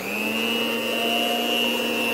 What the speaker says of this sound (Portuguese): Aí eu vou usar a batedeira agora.